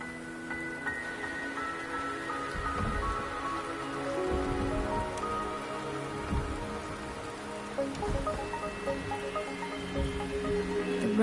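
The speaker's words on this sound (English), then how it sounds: "The rain is subsiding, and the sky will soon clear." Rain falls steadily across a surface in a video game world, a continuous patter of drops holding at moderate loudness throughout, with a few low rumbles beneath and no voices.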